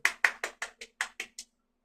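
An audience claps in a short burst of about eight sharp, evenly spaced claps that stop abruptly, fairly close and with no talking over them.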